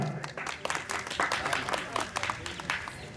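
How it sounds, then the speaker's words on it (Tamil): An audience claps at a Tamil stage debate performance, a steady patter of many hands lasting a few seconds, moderately loud, with a voice briefly talking over it. "சரியா இருந்தா ஒரு கைத்தட்டு கொடுங்க."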